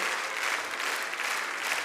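A concert audience applauds in a dense, steady wash of clapping, close and fairly loud, continuing evenly throughout without voices on top.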